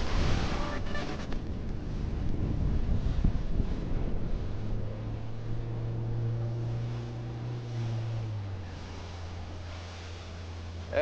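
Strong wind roars across the microphone at sea aboard a racing yacht during the Andros International Yacht Race off the Andros coastline, a loud steady buffeting with a low engine-like drone rising midway, no talk.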